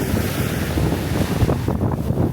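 Waves roll and wash on a beach in a steady rush of surf, with heavy wind buffeting the microphone throughout and no voices.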